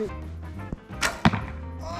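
An arrow is loosed from a bow at cans, a sharp twang and whoosh followed by a quick impact thud, fairly close against low background hum.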